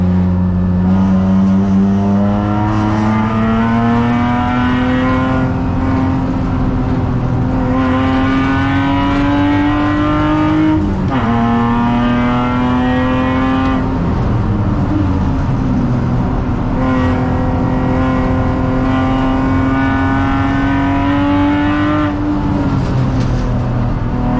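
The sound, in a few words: Porsche race car engine with homemade 3-inch straight-through exhaust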